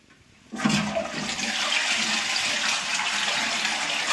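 A household toilet flushing and then refilling, a sudden loud rush of water after a brief quiet start, then a steady close hiss and gurgle of the tank filling.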